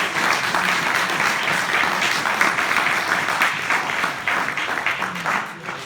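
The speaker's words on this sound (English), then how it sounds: "Another round of applause for all your green guys." A university lecture audience applauds at the close of a Q&A session on human rights and freedom in the Middle East, with steady, dense clapping throughout that tapers slightly at the end.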